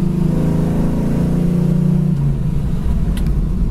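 A yellow 1968 Chevy Camaro engine pulls hard in second gear toward 4,000 RPM, a loud steady in-car drone with a rising tone, then easing off as the revs drop near the end.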